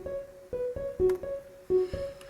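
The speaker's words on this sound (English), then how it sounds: "like an arpeggiator as they do, and it sounds like this" A synthesizer arpeggiator plays a quick repeating pattern of short plucked notes, stepping between pitches in a steady rhythm, clear and moderately loud.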